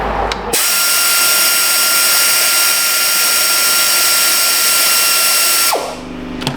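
A loud, high-pitched power tool whines steadily for several seconds as it cuts a key off inside a metal lock cylinder, then winds down.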